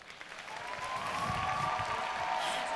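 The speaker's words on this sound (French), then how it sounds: "Je vous demande de l'applaudir bien fort." Applause from a cosplay contest crowd at Polymanga 2019 builds and holds steady as a costumed priestess performer takes the stage, a broad wash of clapping with a faint tonal hum running through it.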